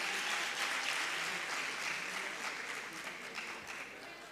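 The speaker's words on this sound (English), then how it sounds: "Please kindly give huge round of applause to all of them." Applause for nursing graduates at a ceremony, a steady wash of clapping from a crowd, fairly faint and distant, slowly fading toward the end.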